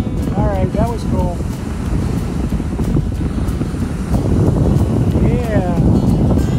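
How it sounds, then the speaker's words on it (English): Wind and surf on a Lake Michigan beach at Wilderness State Park, a loud, continuous roaring wash with wind buffeting the microphone, while people's voices call out briefly over it. "No salt, no sharks, but lots of wind and surf."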